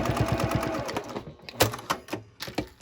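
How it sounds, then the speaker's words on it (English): A sewing machine bastes layers of a zippered bag exterior together at a quarter-inch seam, giving a quick, close rhythmic chatter that slows into scattered clicks and taps. "I'm just basting these layers together, just 1/4 inch seam allowance."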